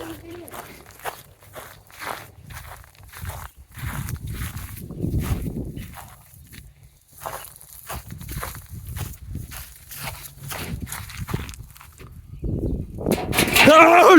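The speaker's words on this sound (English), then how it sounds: "I can hear footsteps" A neighbour's cat moving through a garden where a bare-root fruit tree is being planted, giving soft, irregular rustling steps that come and go close by, with a person talking over them.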